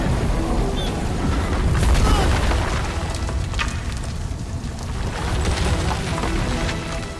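A deep, rumbling explosion booms and roars loudly, with crackling bursts and debris-like noise rolling on throughout.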